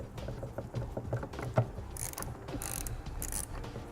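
Phillips and Torx screws backed out of a fender accent piece on a vehicle getting a trailer hitch, with faint ratcheting clicks and mechanical rattles close by and a brief louder clack midway.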